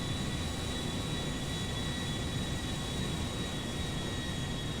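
An A320 airliner in the GTA 5 video game rolling down the runway on takeoff, a steady loud roar of jet engines and rumbling wheels with a faint high whine, constant and unbroken, with no talking.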